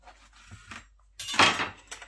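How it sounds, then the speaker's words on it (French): A knife slices open a tomato on a small cutting board, making a brief burst of wet cutting and clicking after a few soft taps against the board, close and fairly quiet. "je viens ici ouvrir la tomate"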